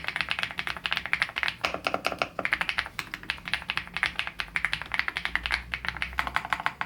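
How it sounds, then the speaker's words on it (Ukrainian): An Ajazz AK820 Max mechanical keyboard with tactile Avocado switches is typed on in a quick, steady stream of close, crisp keystrokes with a deep clack, and no voices. "ак 820 Max обладнана перемикачами Avocado Switch, що вирізняється яскравим вираженим тактильним відгуком та приємним глибоким звучанням при натисканні."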